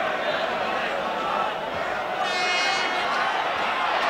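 Home supporters at an FA Cup fourth-round tie between Orient and Southampton make a steady, dense roar throughout, a broad continuous wash of crowd noise with no clear breaks.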